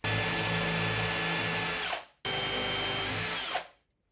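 A power drill whirs loudly and steadily for about two seconds, winds down, then runs again in a second burst before spinning to a stop.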